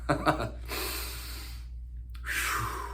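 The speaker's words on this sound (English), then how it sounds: "let me take a breath" One person takes a slow, deep breath to calm down, with a drawn-in inhale, a brief pause and then an audible exhale, close and quiet over a low background hum.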